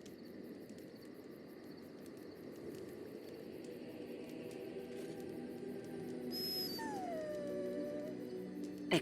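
In Dragon Age: Origins, a dog gives long drawn-out howls and whimpers over a quiet ambient bed with faint crickets, the cries sliding downward near the end.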